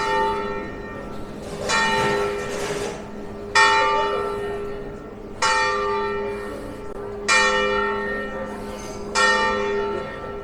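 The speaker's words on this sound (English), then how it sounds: "I hear the bells." Church bells in Sitges, Spain ring out in a slow, steady sequence of loud resonant strikes, each tone lingering and overlapping the next, with no talking.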